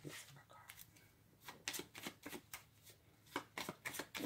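A deck of Clue cards is shuffled by hand in quick bursts of soft riffling and flicking, quiet and close, with short pauses between passes.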